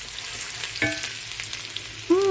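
Garlic and ginger sauté for shrimp in a hot pan, giving a steady low sizzle with a few clinks and a brief tonal scrape near the end, heard alone without talk.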